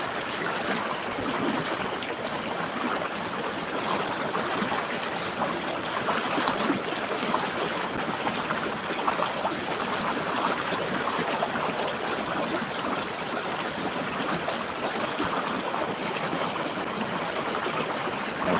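Water rushing at Tad Yuang waterfall in Laos, a steady broadband roar of flowing stream over rocks, constant and fairly close, with no voices.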